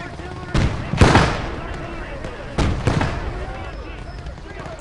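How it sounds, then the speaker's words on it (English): Artillery cannon fire in a World War II video game: two heavy booming blasts a couple of seconds apart, each with a rolling tail, loud and close over a busy battle background. "Cannon fire incoming! Artillery! Incoming."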